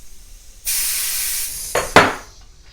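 A Harbor Freight refillable pressurized sprayer discharging gear oil: a sudden loud continuous hiss for about a second, then two sharp sputtering bursts that trail off into quiet.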